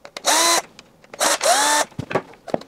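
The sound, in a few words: power driver undoing washing machine drain pump screws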